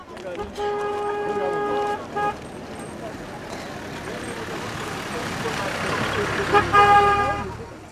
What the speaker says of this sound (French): Des véhicules militaires qui se frayent un chemin dans la circulation